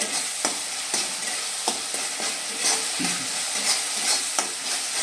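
Tomatoes sautéing in a pan for vegetable dal, a steady close sizzle with regular soft scrapes and stirs of a spoon against the pan, no voices.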